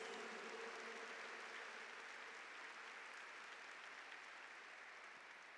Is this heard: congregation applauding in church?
yes